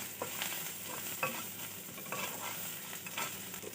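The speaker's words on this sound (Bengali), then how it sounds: "পেঁয়াজ ভাজা হয়ে গেছে, আমি এবার নুন দিয়ে দেবো," Sliced onions with broken green chillies fry in a pan and are stirred. A steady sizzle runs under repeated scraping strokes of the spoon against the pan, close by, with no voices.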